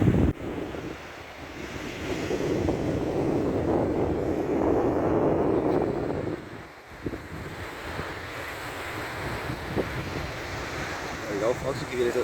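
Surf washing onto a beach during a small sea fishing club competition, a steady broad wash of waves with heavy wind buffeting the microphone throughout.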